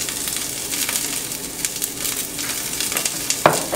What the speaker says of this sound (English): I'm going to start by having a little bit of olive oil, and I'm going to saute some onions